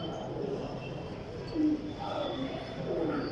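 Pigeons kept for trading coo softly a few times under a constant background hum, with low, rolling calls rising briefly at intervals.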